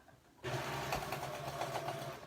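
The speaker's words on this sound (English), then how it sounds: "So I'm going to clip the right needle thread and sew it out" A serger overlock sewing machine starts up after a quiet moment and runs at a steady, fast, rhythmic whir, sewing out thread close by with no talking.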